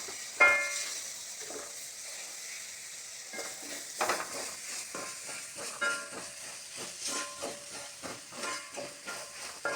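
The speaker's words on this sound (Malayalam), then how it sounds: "ഇത് നല്ലോണം ഇളക്കാം." Spices being stirred in a hot pan for chicken curry, with irregular scraping and stirring strokes over a steady hiss of frying, close and moderately loud, no talking.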